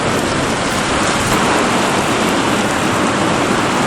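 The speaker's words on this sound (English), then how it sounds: "The lightning, thunder." Steady, heavy rain from a thunderstorm pours continuously, a dense broadband hiss with no clear thunder peals standing out.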